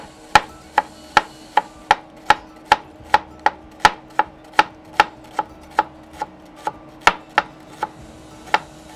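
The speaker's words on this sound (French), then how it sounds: "Et une échalote. Alors, finement ciselé." A knife finely chops a shallot on a board in a steady, even rhythm of about twenty crisp, close taps, with no talking.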